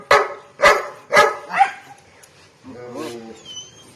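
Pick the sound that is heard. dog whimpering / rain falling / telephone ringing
dog whimpering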